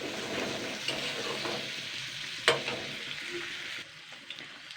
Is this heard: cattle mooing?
no